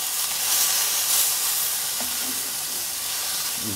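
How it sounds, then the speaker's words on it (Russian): Beef frying in a pan for Georgian chashushuli makes a steady, hissing sizzle that stays even throughout, with a few faint scrapes near the end. "к дну сковородки и обжаривается."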